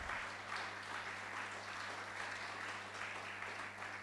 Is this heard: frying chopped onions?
no